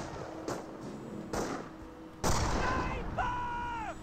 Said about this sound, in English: Snipers get another hit there